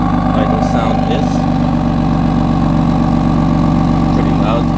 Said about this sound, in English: This is how the idle sound is.